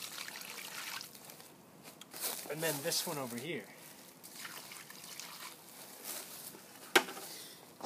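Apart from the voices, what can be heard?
water poured onto moss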